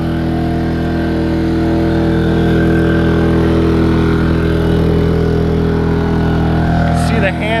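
A Ryobi 2300 inverter generator runs at full load, giving a steady, loud, droning engine hum that holds constant throughout with a rich stack of low tones and no pauses.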